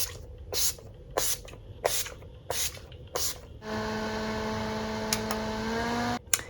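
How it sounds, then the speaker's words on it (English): Skindinavia makeup finishing setting spray misted onto a face in several short, close hissing bursts, followed by a longer steady hiss with a faint hum underneath. "this time I'm going to do the Skindinavia, the makeup finishing spray."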